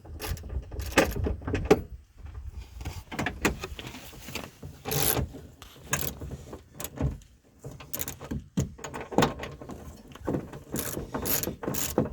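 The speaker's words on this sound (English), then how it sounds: "The ratchet that comes with it does not have the ratcheting handle." A hand ratchet clicks in quick bursts while nuts are snugged on a chuckwagon setup, close and fairly quiet, with irregular clusters of sharp pawl ticks, some heavier knocks and short gaps between them.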